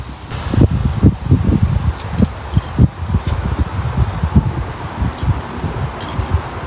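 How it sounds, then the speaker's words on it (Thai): Strong wind gusting outdoors on a cold day on a road trip near Brisbane, Australia, buffeting the microphone with loud, continuous low rumbling and irregular bursts throughout. "เพราะว่าตอนนี้มันลมมากเลย"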